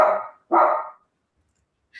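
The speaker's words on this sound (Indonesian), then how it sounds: "Sampai ada yang menggonggong juga." A dog gives two sharp barks close by, each clipped and loud, followed by silence and the start of a third at the end.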